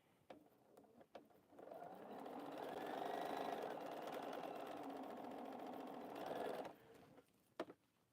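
A sewing machine runs steadily for several seconds while quilting, with a whirring, rapid stitching hum that rises and falls at the edges, plus a few clicks before and after.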